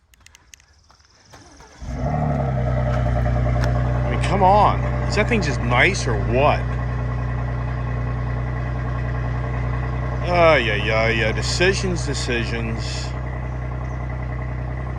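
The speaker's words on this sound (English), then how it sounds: "now let's listen to this gas engine truck." A gas-engine Ford F-150 pickup fires up after a quiet start and settles into a steady, close idle that runs under someone talking.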